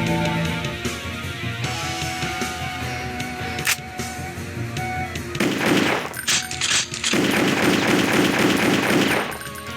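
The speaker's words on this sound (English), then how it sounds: "I'll empty a bunch of clips into it." Sustained rapid gunfire in the retro shooter game Powerslave, aimed at a barrel, with bursts of repeated shots that grow louder and denser in the second half, with no talk.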